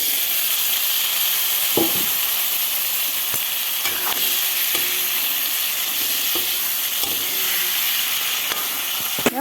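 Chicken pieces fry in hot oil with browning onions in a pan for Assamese chicken curry, giving a loud, steady sizzling hiss throughout, broken by occasional stirring knocks and scrapes.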